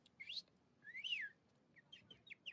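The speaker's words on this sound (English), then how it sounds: "It's just a bird." Short high chirps and whistled calls from a bird, a few separate bursts in quiet surroundings, faint and fairly close.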